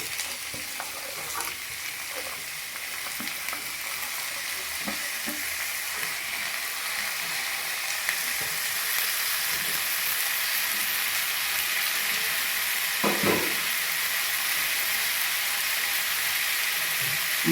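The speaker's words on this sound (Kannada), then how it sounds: "ಬೀನ್ಸು ಕ್ಯಾರೆಟ್ ತೊಗೊಂಡಿದ್ವಲ್ಲ ಹಾಕ್ತಾಯಿದ್ದೀನಿ." Beans and carrots fry in a pan for a vegetable palya, producing a steady close sizzle that grows slightly louder, with a few light clatters of a utensil against the pan.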